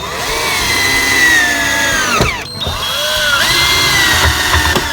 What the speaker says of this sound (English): I'll be just using some deck screws to screw it in place down into the frame